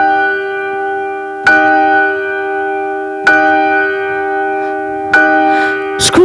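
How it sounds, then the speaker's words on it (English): A church bell strikes in slow, evenly spaced peals, each ringing tone sustaining into the next, heard alone without voices. "The bell struck"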